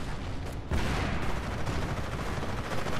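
Rapid small-arms and machine-gun fire crackles through a Company of Heroes battle, a dense, continuous fusillade of overlapping shots with a brief lull before it intensifies again.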